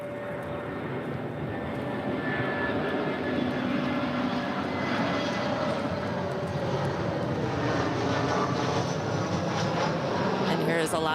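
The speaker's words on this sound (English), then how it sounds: "Alaska 307 coming in from their hub at Seattle. And it's an A320." An Alaska Airlines Airbus A320 lands at LAX, its engines a sustained loud roar with a faint whine, steady and close, with talk faintly underneath.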